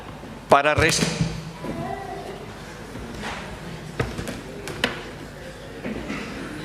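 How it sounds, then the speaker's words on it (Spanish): A church pulpit breaks during a sermon with one sudden loud crack and thud near the start, followed by a few scattered knocks and bumps while a voice talks. "ya alguien quería que se rompiera el púlpito y se ha roto"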